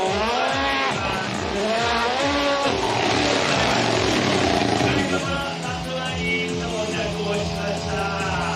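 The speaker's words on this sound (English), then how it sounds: "He's warming up his brakes and tires." A four-wheel-drive drift car at Okayama International Circuit warms up its brakes and tires during a Formula Drift Japan event, engine revving hard and repeatedly with rising and falling pitch under loud continuous tire squeal, close and dominant throughout.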